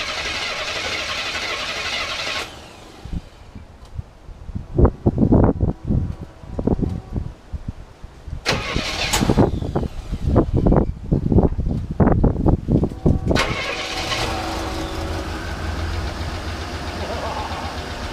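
An engine with a fuel-pressure problem cranks in several bursts of rapid, uneven turning, stalls between attempts, then catches and settles into a steady running drone, loud and close.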